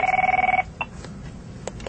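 A telephone rings at a call center in a short burst of rapid electronic trills, then cuts off, leaving faint clicks and light room noise.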